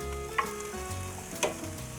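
Meat sizzling as it cooks in a tandoor oven for tandyr kebab, a steady close frying hiss with two brief louder crackles, no voices.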